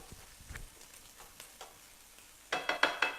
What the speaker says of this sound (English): we're just going to cook that bacon off